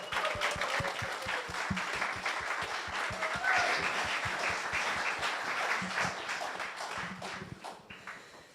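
Audience applause welcoming two performers at an art event, a dense, sustained clapping from a sizable crowd, steady throughout and tapering off slightly at the end.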